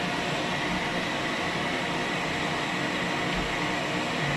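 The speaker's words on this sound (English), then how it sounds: "Turn on the vacuum." A shop vacuum runs in a woodworking workshop where binding channels are being routed, a loud constant whooshing hum that holds steady throughout with no pauses.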